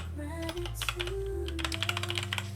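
Keys clatter steadily as a message is typed on a computer keyboard, a quick run of close, crisp clicks over a low steady hum with no talking.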